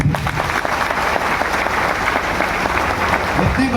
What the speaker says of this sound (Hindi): आप सभी के लिए एक जोरदार ताली।